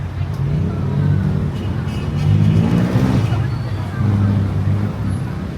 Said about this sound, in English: And heavy traffic, always heavy traffic.